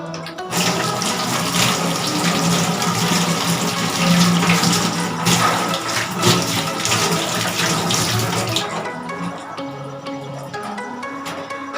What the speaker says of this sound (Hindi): यहाँ पे मैं हाथ धो लेती हूँ, इसी लिक्विड जेल से ही धोने लगी हूँ।